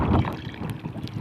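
Strong wind buffeting a fishing boat out at sea, a close, rough low rumble of gusts against the microphone with faint splashing, brief and steady, no voices.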